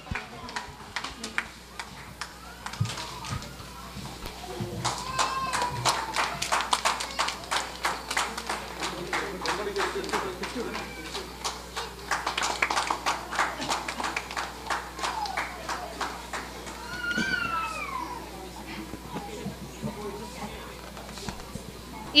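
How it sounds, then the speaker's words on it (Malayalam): An audience at a stage event claps to welcome a speaker, dense applause swelling in the middle and tapering off, with a few voices and cheers mixed in. "ഒരു നല്ല കയ്യടിയോടുകൂടി സ്വാഗതം ചെയ്യാം."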